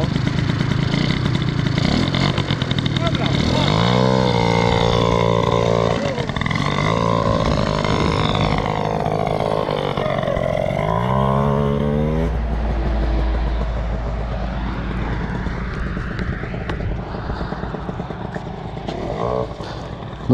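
A Yamaha DT 125 two-stroke enduro motorcycle idles and revs up and down nearby, its engine note rising and falling through several bursts before settling into a rougher low rumble, loud and continuous.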